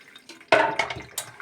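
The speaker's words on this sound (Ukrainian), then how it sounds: "Виливаю сито тобто одразу в кастрюлю, в яку я буду варити" Cooked tomato is poured through a sieve into a cooking pot, a short close splash and gurgling pour with a few drips after, in a quiet kitchen.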